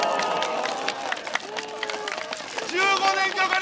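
A crowd at a street magic show in Inokashira, Tokyo, claps along in rhythm with a spinning-cup umbrella act. Regular claps run under loud talk from the performer, and the crowd noise swells near the end.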